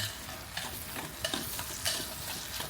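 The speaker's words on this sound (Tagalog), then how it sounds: "Kaya haluin ko na siya" Sardines with egg being stirred in a frying pan, a quiet close-up of soft sizzling with repeated scraping and clacking strokes of the utensil against the pan at an irregular rhythm.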